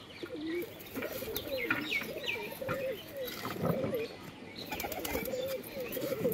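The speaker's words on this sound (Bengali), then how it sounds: "এই দেখুন পায়রাগুলো ছাড়ছে এখন।" Pigeons being let loose in a pigeon-keeping contest, with a steady mix of cooing, chirps and wing flaps across the whole stretch and a busy, moderately loud background.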